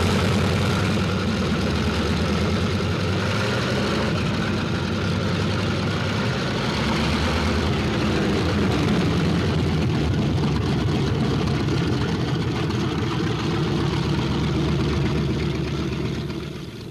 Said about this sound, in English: On the field, planes warm up.